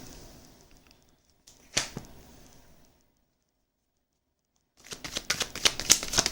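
Tarot cards being shuffled by hand in two bursts: a short riffle near the start, a pause of near silence, then a longer run of crisp, close papery flutters and snaps with no talking.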